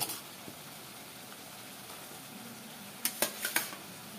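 Fried vegetables go into a pan of curd and are stirred. Faint low sizzling runs under a few sharp clinks of a utensil against the metal pan near the end, and no one speaks.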